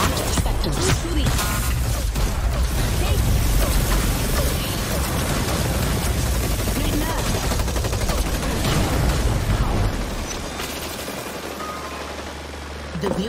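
Dense bursts of gunfire in the video game Hyper Scape, rapid overlapping shots and mechanical clatter filling most of the stretch, then thinning out toward the end.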